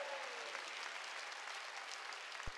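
A church congregation at a Wednesday worship service claps together, a steady, faint wash of many hands applauding with no talk on top, ending in a single low thump.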